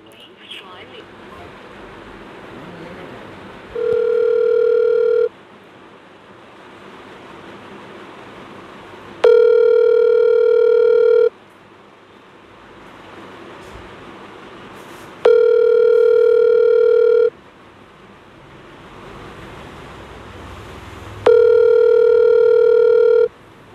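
An unanswered phone call's ringback tone sounds in four loud, evenly spaced buzzing bursts of about two seconds each, separated by quieter gaps of faint background noise.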